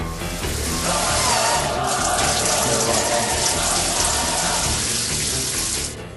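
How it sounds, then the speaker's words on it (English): Steady rushing spray of running water from a shower, loud and continuous like a downpour, cutting off abruptly near the end. "Did the Rain, which was recorded using a shower over quite a lengthy period of time"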